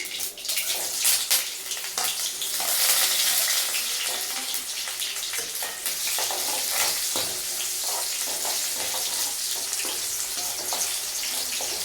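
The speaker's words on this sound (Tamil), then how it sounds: "கடுகு பொரிஞ்சதுக்கப்புறம் வெங்காயம் போட்டுக்கலாம்" Onions frying in hot oil just after mustard seeds have spluttered, a dense steady sizzle with faint crackles running close and loud throughout, no talking.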